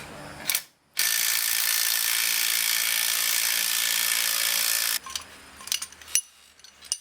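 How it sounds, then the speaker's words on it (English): Puller tool cranking off the harmonic balancer of an LS engine: a loud, sustained mechanical whir and grind for about four seconds, then scattered ratchet clicks and metallic knocks. "we're just pulling off the harmonic balancer"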